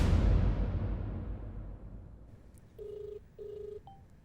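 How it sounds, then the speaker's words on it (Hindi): A phone on speakerphone dials a call: two clear keypad beeps follow a fading hiss, then a short faint tone. "हाँ, स्पीकर पे लगा के करूंगा"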